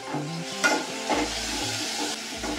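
Masala and ginger-garlic paste being sautéed in oil for a spicy prawns rassa, with a steady close sizzle and stirring scrapes running under light background music.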